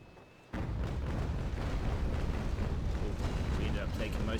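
Heavy cannon barrage from a naval broadside in Naval Action slamming into a Trincomalee frigate: a sudden loud impact, then a dense, continuous roar of booms and crashing debris, with a voice faintly underneath.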